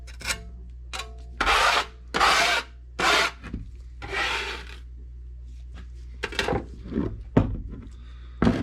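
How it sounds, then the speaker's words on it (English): Casting sand scraped flat in a mould before a silver pour, several loud close rasping strokes of about half a second each, followed by softer scuffs and knocks over a low hum. "Scrape the excess off so you have a nice flat surface."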